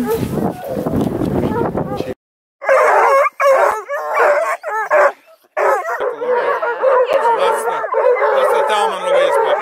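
A pack of about two dozen hound dogs, including bluetick and redbone coonhounds, black-and-tans and beagle mixes, howl and bay together loudly and nearby, with sustained wavering howls broken by brief pauses and yips.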